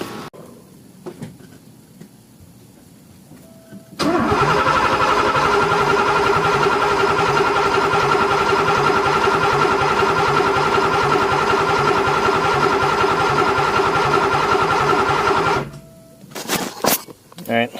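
A tan Porsche 928 engine cranks steadily for about twelve seconds after sitting unused for over fifteen years, a loud rhythmic starter churn that tries to fire but never catches, with quieter shuffling before and after.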